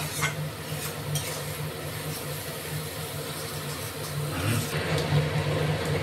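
Chopped onion frying in a pan, a soft continuous sizzle with occasional stirring scrapes and clinks, fairly quiet under a low steady hum.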